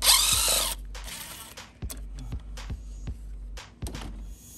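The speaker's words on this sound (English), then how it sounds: "Now using a 13mm socket, we can remove this bolt right here. I'm using a drill." A power drill fitted with a 13mm socket spins a bolt loose from the motor mount of a 2010 Chrysler Sebring / Dodge Avenger, giving a loud opening whir followed by short, close bursts and clicks over a low hum.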